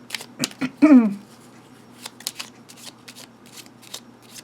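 Trimmed Piatnik Lenormand cards being handled and dealt out for a Grand Tableau spread: a quick run of crisp shuffling riffles near the start, then scattered soft taps and slides as cards are laid down, with a brief voiced sound among them.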